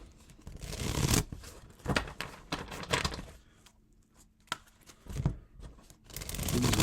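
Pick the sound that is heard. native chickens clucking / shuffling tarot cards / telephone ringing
shuffling tarot cards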